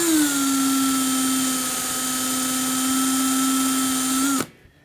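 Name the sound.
polishing wheel spinning against plastic power tool housing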